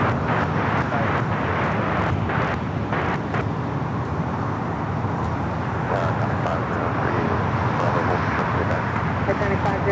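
A SkyWest airliner on runway 25 right at Los Angeles International Airport roars steadily on its takeoff run, a broad continuous engine rumble over traffic-like background, heard from a distance with a radio voice talking over it.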